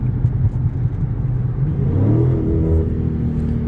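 A 2023 Plum Crazy Dodge Charger 392 Super Bee wide body on the highway, its engine droning steadily, then rising as it revs up loudly, heard from inside the car.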